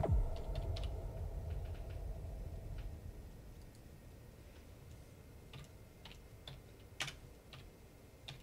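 Keys clicking on a computer keyboard while a message is typed during a Halo 5 Forge session, sparse light taps in irregular bursts, quiet and close over a low steady hum.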